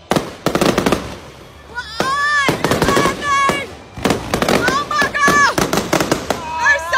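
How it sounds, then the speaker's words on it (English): Fireworks burst in a rapid, crackling series of loud bangs and pops, mixed with whistling rockets and shrieking, excited voices reacting throughout. "Fireworks gone wrong."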